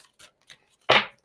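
A tarot card deck gets a single quick riffle shuffle, a short crisp burst of papery flutter that follows a few faint taps and rustles in a quiet room.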